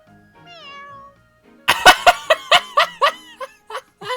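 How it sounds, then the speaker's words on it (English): A single drawn-out meow from a big cat caught in a pantry in Fire Emblem: Three Houses, followed by a run of rhythmic snickering laughter bursts. "I never would have guessed a cat this big could sneak into our pantry."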